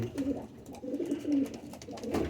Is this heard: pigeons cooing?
yes